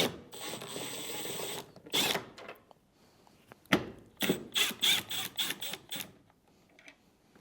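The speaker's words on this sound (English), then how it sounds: "Remove these 2 screws using a T20 Torx bit." Short ratcheting clicks and rattling bursts from a driver with a T20 Torx bit backing screws out of a Whirlpool Maytag washer's control panel console, close and moderately loud, in uneven clusters with quiet gaps between.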